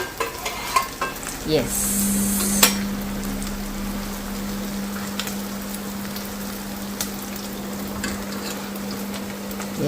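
Chicken sizzles and fries in a pan with turmeric, liver and salt while it is stirred. A brief scraping stir is followed by a steady close sizzle and a faint background hum, and a voice speaks briefly.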